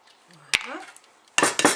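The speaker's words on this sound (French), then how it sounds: "On casse bien les jaunes et on est parti pour bien intégrer tout ça" Eggs being broken up and stirred into gluten-free cookie dough in a bowl, with clinking utensil strikes against the bowl and scraping mixing sounds in short bursts, close and fairly quiet.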